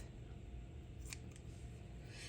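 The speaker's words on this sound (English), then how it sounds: "I'm going to take my scissors, kitchen shears here." Kitchen shears snip through food being cut up for a quiche Florentine: two quick, crisp cuts close by, heard over a steady low kitchen hum.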